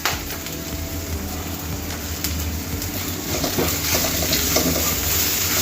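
Cauliflower pepper fry sizzles steadily in a pan, a dense frying hiss with scraping and stirring that grows a little busier toward the end.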